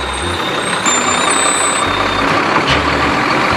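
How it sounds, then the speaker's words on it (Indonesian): A garbage truck runs nearby with a loud, steady engine rumble and a high whine, a brief beep or squeal partway through, and no talking. "mobil truk sampah"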